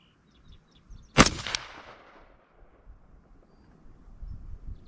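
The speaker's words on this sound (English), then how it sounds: "So let me shoot that target and see where I'm hitting." A rifle fitted with a Commander NV400 night vision scope fires one sharp, loud gunshot at an outdoor target, and a brief echo trails away into quiet wind and rustling.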